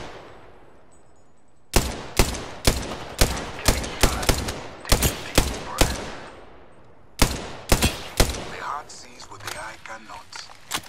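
Rapid bursts of automatic gunfire in a shooter video game, several tight volleys of sharp loud shots with short gaps, then a final run of scattered shots trailing off.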